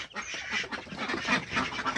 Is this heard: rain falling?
no